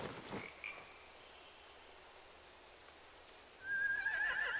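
A horse in a PS4 video game gives a short, high, wavering whinny near the end, after quiet background ambience and a faint sound at the start.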